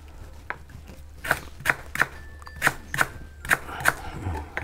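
Lemongrass, chili and shallots with salt pounded in a mortar for a chicken and banana-stem curry, a run of about eight sharp, evenly spaced thuds, close and fairly loud over a low hum.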